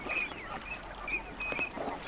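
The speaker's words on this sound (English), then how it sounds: "The sound of a bunch of ducks is kind of nice." A bunch of ducks calling on a pond, a brief, steady murmur of overlapping whistles and quacks at moderate distance, with no voices.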